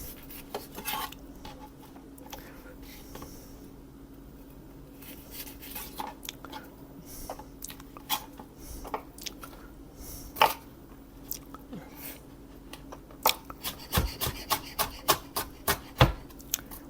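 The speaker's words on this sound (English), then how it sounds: "so I'm going to cut those up, chop them up" Knife chopping tomatoes on a board: scattered taps at first, then a steady run of sharp, close chops toward the end, with faint kitchen clatter behind.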